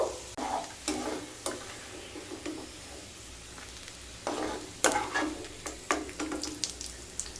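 Ingredients for Navratan pulao fry in a pan over medium heat, a soft steady sizzle broken by repeated stirring scrapes and clatters, close and fairly quiet, with no talking.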